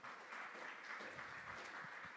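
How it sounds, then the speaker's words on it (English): An audience at a young adults' gathering gives a round of applause, an even, moderately distant patter of many hands clapping with no voices over it. "Why don't we give Greg and Britt and Hayden a round of applause"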